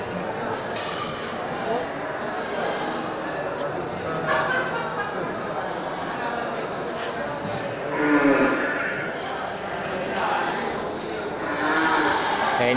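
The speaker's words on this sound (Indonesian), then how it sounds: "Ini sapi betina ya." At a busy livestock market before Maulid, a cow lets out a low moo amid a noisy crowd of voices and other animal sounds, with a dog barking somewhere in the mix.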